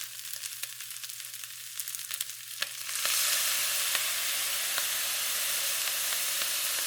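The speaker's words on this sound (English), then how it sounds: "and stir everything together" Chicken yakisoba noodles with oyster and soy sauce sizzle and fry steadily in a hot pan while being stirred, a soft clatter at first giving way to a loud, continuous hiss.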